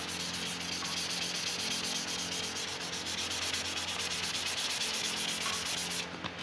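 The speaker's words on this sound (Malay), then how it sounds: "So pakai 800 kita boleh start gosok" Fine 800-grit sandpaper rubs steadily over the clear coat on a black motorcycle engine part, a close, continuous dry scratching hiss with an even back-and-forth texture and no talking.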